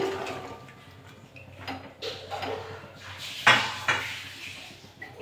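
Small chuno fish and data stalks tumble into a kadai on a lit gas burner, giving a few clattering knocks and scrapes of metal at moderate volume, with quieter kitchen rustling between them and no voices.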